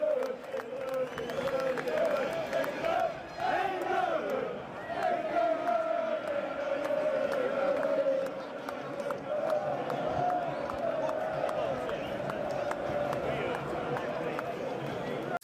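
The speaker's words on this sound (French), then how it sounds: "Regardez la foule." Large crowd of patriots marching through the streets of London, a continuous dense murmur of many voices with scattered shouts, steady throughout with someone talking over it.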